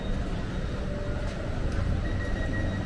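A Swiss train pulls into Interlaken station on a winter trip through the Alps, giving a steady low rumble with a faint high whine near the end, continuous and fairly close, with no talk.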